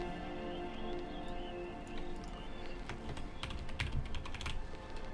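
Typing on a computer keyboard while playing Black Desert Online, a quick flurry of light key clicks that grows busier toward the end, faint over a low hum.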